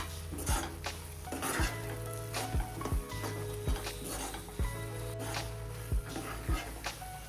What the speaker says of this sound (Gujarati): દૂધને લોટ ફટાફટ એબ્ઝોર્બ કરી લે છે। કન્ટિન્યુ તેને હલાવતા રહેશું।